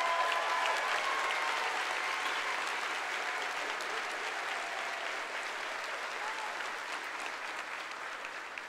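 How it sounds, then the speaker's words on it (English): Sustained applause at a 2017 university commencement for graduating military veterans, a broad, even roar of many hands clapping that eases slightly over time, heard at a distance and fairly soft. "Let's give them a special round of applause."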